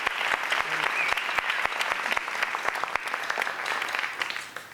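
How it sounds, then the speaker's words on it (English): Audience applause for jazz band members at a community jazz band concert, brisk even clapping from a moderate crowd that fades slightly toward the end. "Give him a round of applause,"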